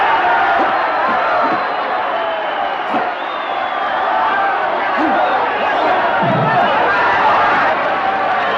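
Large crowd at a martial arts tournament fight in the film A Force of One, a dense continuous roar of cheering and shouting with scattered whoops and thumps, loud and sustained.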